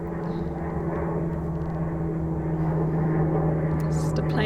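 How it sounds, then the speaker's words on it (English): An airplane passes overhead at night on a hill, a steady low droning engine hum at moderate distance that swells slightly toward the end. "Just a plane going over."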